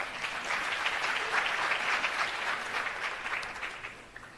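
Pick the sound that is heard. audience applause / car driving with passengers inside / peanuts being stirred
audience applause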